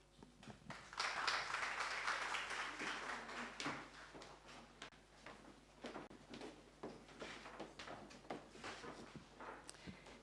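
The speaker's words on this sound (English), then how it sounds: "Yes, give them another clap." Audience clapping after children read aloud from their own book at a school book launch, a dense burst early on that thins into scattered, softer claps with a few sharp close hand claps toward the end.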